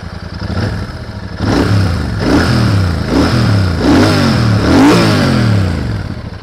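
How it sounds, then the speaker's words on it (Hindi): A Royal Enfield Super Meteor 650 motorcycle exhaust revs repeatedly in loud, sharp bursts, rising and falling about five times over a steady idling rumble, close by. "तो सुन लेते इस मोटरसाइकिल का एग्जॉस्ट नोट।"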